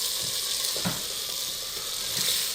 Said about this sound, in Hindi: अब इसको भूनेंगे अच्छी तरीके से इसी के अंदर।